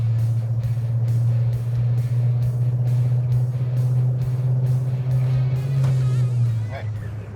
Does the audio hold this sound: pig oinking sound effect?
no